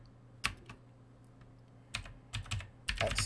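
Fingers type on a computer keyboard, with quick clusters of close, crisp keystrokes separated by brief pauses in a quiet room.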